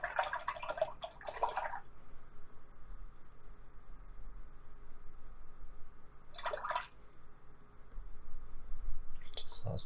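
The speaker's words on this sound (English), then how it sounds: "So just wash my brush." Paintbrush rinsed in a pot of water while painting a winter scene, giving two short bursts of sloshing and tapping at the start and midway, then another near the end, over a faint steady background hiss.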